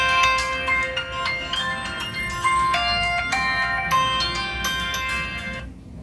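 A phone ringtone plays a bright, repeating electronic melody loud and close for several seconds, then cuts off abruptly.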